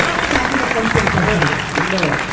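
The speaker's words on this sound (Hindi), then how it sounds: "एक बार पूरा सदन अपनी तालियों से मुझे हिम्मत दे" Audience applause at a Hindi poetry recital, a dense continuous burst of clapping filling the hall, with some voices mixed in.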